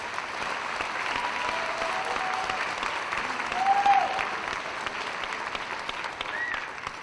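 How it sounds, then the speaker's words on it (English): Graduation audience at a 2018 high school ceremony clapping steadily and fairly softly, a dense wash of hands with a brief cheer-like tone partway through. "Give yourselves a round of applause."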